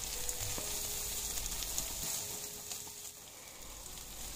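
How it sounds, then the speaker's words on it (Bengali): Chopped onions frying in a pan for a Hakka noodle dish give a steady, close sizzle throughout, with a few light clinks of utensils and no talk. "জাস্ট 1-2 মিনিট একটু পেঁয়াজটা ভেজে নেবো"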